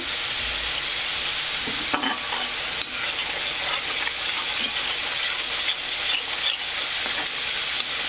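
Spices and grated coconut roast in hot oil for an egg curry, giving a loud, continuous close sizzle with occasional stirring scrapes.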